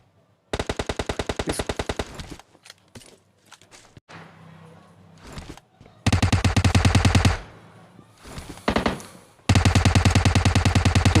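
Gunfire from the video game PUBG Lite comes in long, loud automatic bursts of rapid, evenly spaced shots, broken by short gaps and scattered single reports, with three main volleys of sustained fire.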